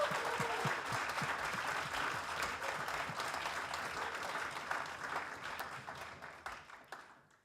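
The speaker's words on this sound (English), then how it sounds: "So big round of applause for that." Audience applause at a spring seminar, a steady wash of many hands clapping for the full stretch and fading slightly toward the end.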